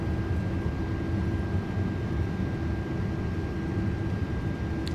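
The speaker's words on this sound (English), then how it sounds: "Reversers are working." Steady, loud engine roar from an iniBuilds A330-300 with GE engines running thrust reversers during the landing roll at Saint Martin in Microsoft Flight Simulator 2024, a dense low rumble holding constant throughout.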